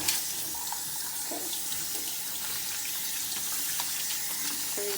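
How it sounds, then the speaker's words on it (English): Meat rinsed under a running kitchen tap in a sink while making chicken adobo, a steady close rush of water throughout. One brief word is spoken. "I'm going to rinse off my protein."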